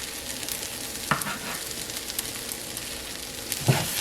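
Garlic fries with vegetables in a pan, giving a soft continuous sizzle with two brief scraping stirs of a utensil against the pan, close but fairly quiet.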